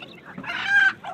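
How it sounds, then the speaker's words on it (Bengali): A big rooster for sale at a village market in Khanasama, Bangladesh, gives one short, loud, close cluck lasting about a second. "এটি বড় মোরগ"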